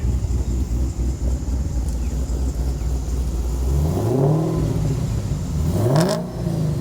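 Manual Holden Commodore GTS with a supercharged engine, over 700 wheel horsepower, idling loud and close before two sharp rising revs that fall back, with no talk.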